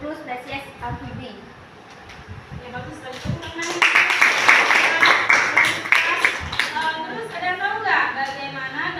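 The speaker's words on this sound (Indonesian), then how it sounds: "Ya bagus sekali, tepuk tangan." An audience breaks into clapping partway through, a dense burst of applause that follows a voice talking and continues under more talk.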